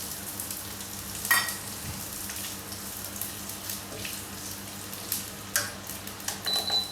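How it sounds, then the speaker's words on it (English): Green beans hit warm oil in a pan for a Madras curry, producing a steady close sizzle and hiss with occasional stirring scrapes and clinks over a faint kitchen hum. "Our oil is warm. We're going to start with adding the green beans in."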